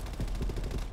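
Gunfire in the shooter game Call of Duty: Black Ops Cold War, a brief, fairly faint burst of rapid automatic shots under a dense, rumbling game mix.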